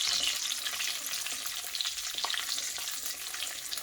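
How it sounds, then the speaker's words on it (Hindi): A cinnamon stick and whole cumin seeds sizzle in hot oil and ghee, producing a bright, continuous crackling hiss with small pops. The sound is steady and close, and no one speaks. "इसके अंदर मैं ये एक दालचीनी का टुकड़ा डाल देती हूँ, 1 टीस्पून साबुत ज़ीरा।"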